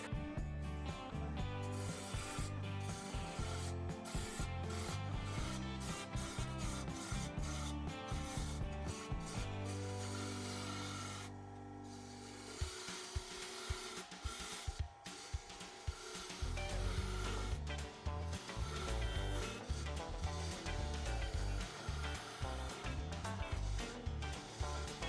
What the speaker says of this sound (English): I'm going to use my 3/8 inch bowl gouge to start shaping the outside of the bowl.